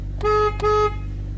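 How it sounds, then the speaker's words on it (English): Two short, loud honks from an upgraded aftermarket horn on a 10th-generation Honda Civic Type R, a bright steady tone over a low idling engine. "And then we're gonna honk the horn."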